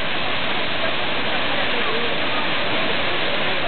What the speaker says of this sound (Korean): 여기는 천지연 폭포